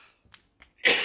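A single close, harsh cough from a person with a dry throat bursts out at the end after a few faint breathy sounds.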